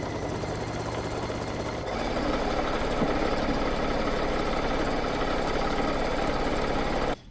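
Sewing machine stitching rows across a pillowcase, a continuous close mechanical whir and hum that steps up slightly in level partway through and stops abruptly at the end.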